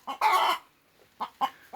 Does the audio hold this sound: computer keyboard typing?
no